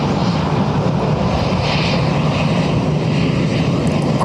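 A Qatar Airways Boeing 777 landing at Dublin Airport with a blown tyre, heard as a loud, steady, broadband engine roar that holds evenly throughout with no voices.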